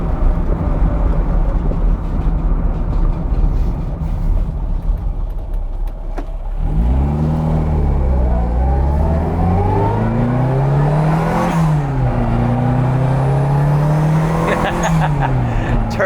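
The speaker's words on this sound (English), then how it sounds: "then we'll open it and you can hear the cool turbo noises" Turbocharged Mini Cooper cafe racer idling with a low rumble, then revving up through rising and falling engine notes with turbo whistle and spool as it pulls away and shifts, loud and close.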